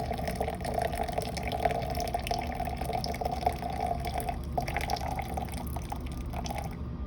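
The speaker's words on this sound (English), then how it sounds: "we're gonna pour the rest of the water in" Water poured steadily into a French press for coffee, a continuous close trickling and splashing stream that runs for several seconds with no talk over it.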